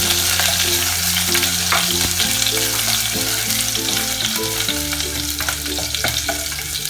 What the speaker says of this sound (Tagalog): we have to saute the ginger or igisa